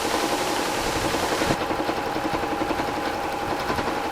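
A sewing machine stitches a salon haircutting cape, running with a fast, steady mechanical whir and rhythmic needle chatter at close range without pause.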